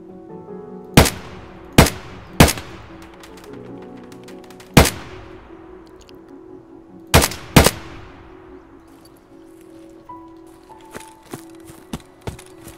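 Single gunshots from an AKMS rifle fitted with a Tula rear sight in Escape from Tarkov, about eight sharp reports spaced irregularly with long ringing tails, loud against a quiet background with no talk.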